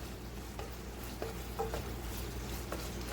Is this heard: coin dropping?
no